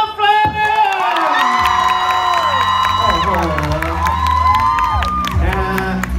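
A crowd cheers and screams loudly for a female rapper being introduced at a stage event, with sustained whooping and shouting and music underneath, continuous throughout.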